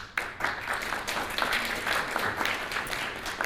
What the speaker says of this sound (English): take a moment to give yourself a round of applause